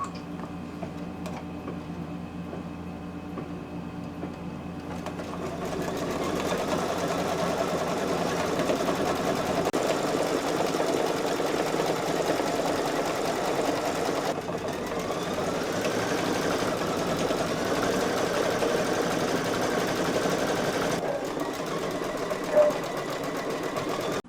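An embroidery machine stitches lettering with a rapid, steady mechanical chatter and hum that runs on continuously for over twenty seconds, starting quieter before settling into a louder even rhythm.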